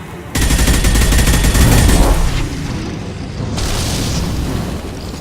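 Weapons fire in Mass Effect 2: a sudden loud burst of rapid gunfire and booming blasts that cuts in abruptly, then thins into a sustained roaring rumble.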